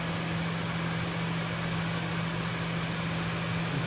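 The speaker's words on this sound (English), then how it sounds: "You can hear the cooling system is supplying oil now." A 70,000 RPM seal test stand's cooling system pumping oil after the chiller starts, a steady unbroken mechanical hum with a low droning tone and broadband hiss, constant in level throughout with no voices.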